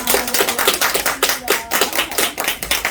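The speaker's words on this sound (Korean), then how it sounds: "다시 한번 뜨거운 박수 보내드립니다" Close, crisp hand claps follow a counselling lecture at a theology school, loud and punchy with a quick uneven rhythm of a few clappers near the microphone, and no voices.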